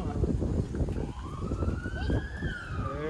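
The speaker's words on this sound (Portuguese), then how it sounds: "É a ambulância." A distant ambulance siren wails with a rising, gliding tone, half buried under loud, gusty wind rumble.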